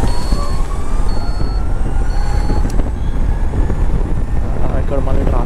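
A River Indie electric scooter accelerates in Rush mode on a road, with heavy wind roar over a thin electric motor whine that climbs in pitch.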